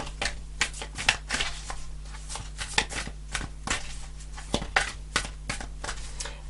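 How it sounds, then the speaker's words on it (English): Tarot cards are shuffled by hand, a close series of crisp, quick riffling flicks and soft slaps repeating in an uneven rhythm over a low steady hum. "I'll do a few more shuffles"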